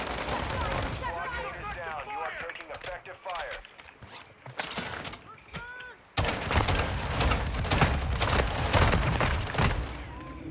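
Dense game gunfire crackles in rapid bursts, with machine-gun rattles and booms under several excited voices talking over it, and the firing gets louder and heavier in the second half.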